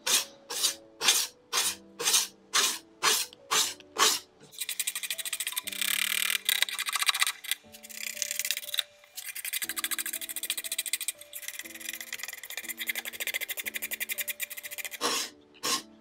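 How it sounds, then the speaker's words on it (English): Steady scraping of an antique French wooden bedside table being stripped, rasping strokes that start as a rhythmic series of short pulses and then run into long continuous passes, close and fairly loud, no talk. "As you're watching me scrape this bedside table, which Took forever."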